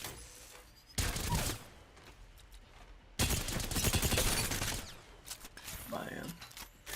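Long rattling bursts of rapid fire from the Havoc energy rifle in Apex Legends, loud and dense, come in two sustained volleys with a voice talking in between and faint activity afterward.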